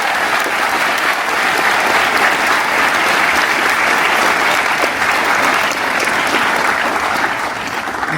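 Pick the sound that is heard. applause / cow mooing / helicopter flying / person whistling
applause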